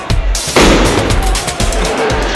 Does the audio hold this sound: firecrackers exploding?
yes